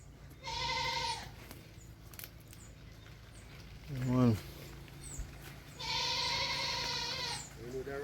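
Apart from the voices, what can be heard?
goats bleating on a goat farm in Jamaica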